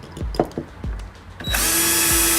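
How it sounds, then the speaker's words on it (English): Power drill boring a pilot hole while installing a brake booster delete on an EK Civic, starting as a few short tool bursts and then running steady and loud near the mic, alone. "So I'm going to drill a pilot hole."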